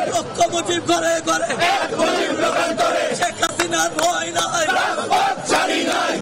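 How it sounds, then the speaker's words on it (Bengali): A large crowd of party activists chants slogans at a street rally in Dhaka. Many voices are loud and close, with a rhythmic call-and-response over continuous crowd noise. "নেতাকর্মীরা এক দফার বিরুদ্ধে স্লোগান দেয়।"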